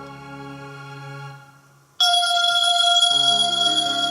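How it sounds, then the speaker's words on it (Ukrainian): A Blackview Ultra Plus smartphone plays its ringtone, a bright electronic melody of sustained tones that fades, pauses briefly, then returns louder and fuller, with no voices. "Мелодія телефону."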